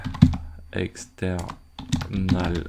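Quick, light computer keyboard clicks sound in short bursts beneath someone talking steadily.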